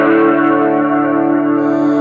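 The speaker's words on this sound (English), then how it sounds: "I'm going to go for one that I use a lot when I'm playing, which is the modulation reverb" Electric guitar played through a modulation reverb pedal, a sustained, shimmering chord ringing out loud and close with a lush, wavering wash and no talk.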